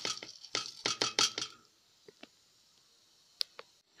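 Washed rice tumbling from a cup into a pot of boiling water, a run of sharp grainy clatters and scrapes against the metal, followed by a few faint isolated clicks and a quiet bubbling hiss.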